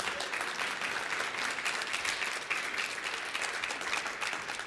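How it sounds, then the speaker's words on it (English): Conference audience at a hospitality industry event claps continuously, a full, even patter of many hands lasting the whole few seconds without talk. "You can clap now."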